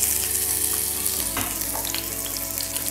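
Chili and garlic sizzle in olive oil in a pan, a steady bright crackling hiss with a few louder pops and spatters partway through, close and continuous, no talking.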